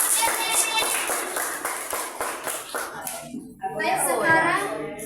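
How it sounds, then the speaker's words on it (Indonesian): Children in a classroom clap together for a group, starting with a few sharp rhythmic claps and then breaking into looser applause with kids' voices chattering and cheering near the end. "Berikan tepuk tangan."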